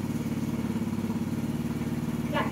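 A 2024 Honda TRX 250X quad idling close by, a steady low pulsing engine rumble with a brief rise near the end.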